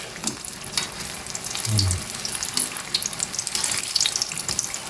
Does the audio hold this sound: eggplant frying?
yes